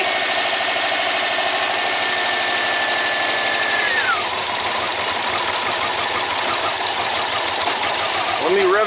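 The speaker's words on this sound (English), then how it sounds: "Seems like it's only running on 2 cylinders." A Subaru engine idles roughly on only two cylinders with its alternator connected, a loud, continuous, uneven chugging with a whine that drops away midway.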